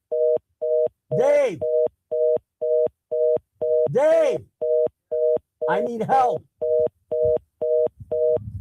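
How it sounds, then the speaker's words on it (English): A phone line's busy tone sounds after a call ends during a live radio broadcast: steady, evenly spaced beeps about twice a second, loud and close, with a voice briefly speaking over them. "We have a phone call we just ended an interview and we got boop, boop, boop."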